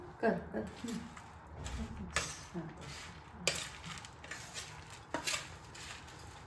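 Boondi is stirred into sugar syrup in a pot, with faint, repeated scraping and clinking of a spoon against metal, soft wet stirring between the strokes, all quiet and close.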